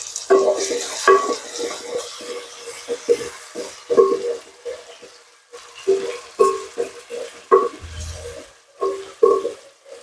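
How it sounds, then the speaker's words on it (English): Tomato being stirred and cooked in a pan for South Sudanese foul medames, repeated scraping and clattering stir strokes in an uneven rhythm over a faint sizzle, close by. "You stir it and stir it and stir it."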